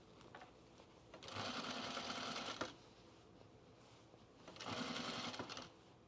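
A sewing machine stitches a pajama top collar seam in two separate bursts of rapid mechanical chatter, each lasting about a second, with quiet handling between them.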